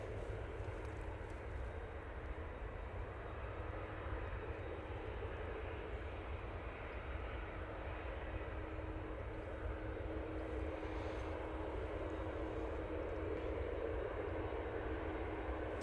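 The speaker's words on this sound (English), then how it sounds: "PC-12 going off to Cannes." Pilatus PC-12 turboprop departing Manchester Airport, a steady broadband engine roar that holds even and moderately distant for the whole span, with no talk over it.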